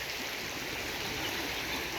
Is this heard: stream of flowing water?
yes